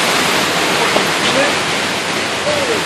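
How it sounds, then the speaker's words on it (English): Rushing river water pouring down a drop along a river walk, a loud, steady, broadband roar that stays even across the whole stretch with no pauses. "Oh look, the water goes all the way down over there."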